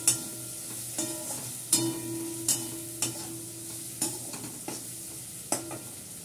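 Meat stir-fried in a pan while it is browned: a constant close sizzle punctuated by regular sharp scrapes and clanks of a spatula roughly every second, with no talk.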